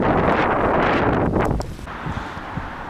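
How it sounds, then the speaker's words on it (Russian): Strong, cold wind roars steadily across the microphone by the sea in winter, a dense broadband rush that eases after about a second and a half into a lighter, gusty blowing. "Холодно, ветер."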